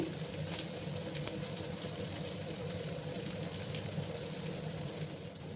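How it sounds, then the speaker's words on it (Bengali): Onions fry in a pan with a continuous close sizzle and fine crackle, steady throughout with no voices. "পেঁয়াজগুলোকে আমি ভেজে নিচ্ছি।"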